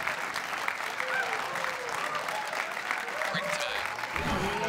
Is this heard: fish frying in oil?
no